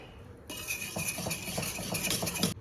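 Mango pieces and sugar worked together with a whisk in a bowl, a steady run of light metallic clinks and scraping strokes repeating at a quick, even pace, close by and alone.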